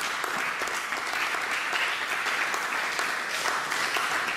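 A church congregation claps steadily during an evangelical service, a dense and even wash of applause from a large crowd, with no voices rising above it.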